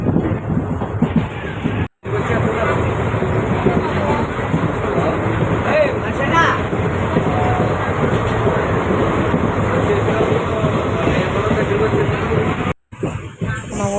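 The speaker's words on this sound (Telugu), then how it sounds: "అలా ఎక్కేసామండి ట్రైన్." A passenger train on a journey to Vijayawada rumbles along with a continuous, loud rolling roar and rattle of the carriages. Two short dropouts break the sound, and voices murmur inside the coach.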